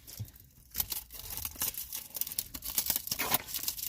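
Plastic packaging of mystery mini blind boxes is torn and crinkled open up close, a busy run of sharp ripping and crackling bursts with irregular rhythm.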